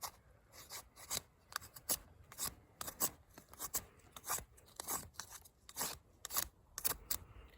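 A Sirius puukko utility knife carves dry wood in a series of irregular, close, crisp scraping strokes, each a short rasping shave with brief pauses between.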